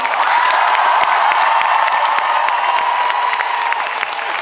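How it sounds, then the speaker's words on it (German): A large concert crowd at a show in Regensburg applauds on request, a dense, steady roar of clapping from many hands that holds evenly throughout without pause. "Das ist so der Applaus, den wir auf Volksfesten gerne hören."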